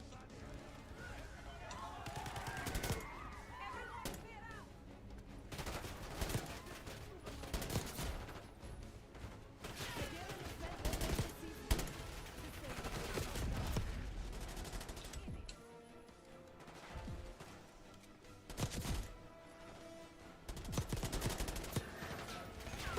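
Black Ops 6 shooter gunfire pops in scattered loud bursts and single shots, some shotgun-like blasts, mixed with game effects while a person talks over it.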